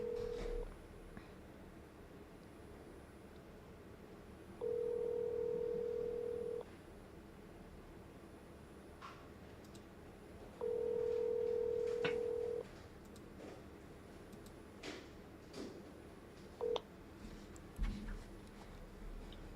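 Telephone dialing tones during a round of calls to property owners: three long steady beeps spaced several seconds apart and a short blip near the end, over a quiet room background with occasional faint clicks.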